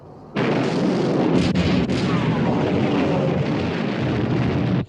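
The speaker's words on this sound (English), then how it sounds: "All turrets ready to open fire, sir." Heavy naval turret guns of a battleship fire in a film sea battle, a sustained loud roaring blast with rumbling booms that fill the whole stretch, with no talking.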